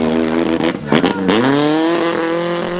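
A rally car at the 2011 KCB rally drives a flat stretch, its engine revving up and holding a loud, steady drone after brief gear-shift dips, close and continuous throughout.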